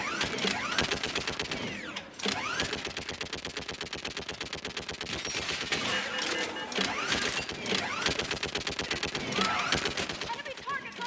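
Heavy sustained automatic gunfire in a Mass Effect 3 battle on Thessia, loud rapid bursts of shots crowding together almost without pause, with short breaks between volleys.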